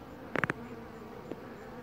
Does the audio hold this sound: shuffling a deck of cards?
no